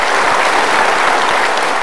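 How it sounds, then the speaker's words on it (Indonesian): A studio audience on a televised motivational talk show breaks into steady, full applause, a continuous close wash of clapping with no speech over it. "Kita berikan tepuk tangan"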